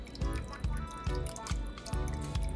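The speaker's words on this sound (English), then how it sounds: "Then we're gonna add about a cup of apple cider vinegar." Apple cider vinegar poured from a cup into ketchup for a barbecue sauce, making a close series of small splashing drips and trickles in a quick, uneven rhythm, fairly faint with no talk.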